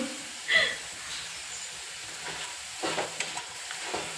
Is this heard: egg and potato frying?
yes